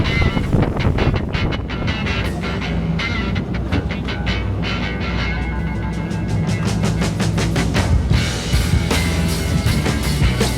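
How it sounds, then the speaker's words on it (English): Strong wind of around 30 knots buffets a boat moored at a marina pontoon, roaring steadily and gusting against the microphone, with repeated rattling knocks over the noise. "The wind's blowing up around 30 knots now, which is not forecast at all."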